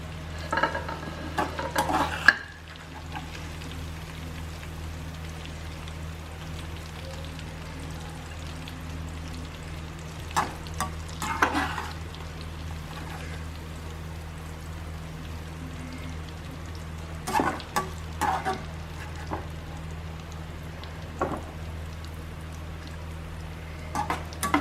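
Bitter gourd frying in a pan, a steady low sizzle of hot oil running throughout, with occasional louder clinks and stirring scrapes from a utensil.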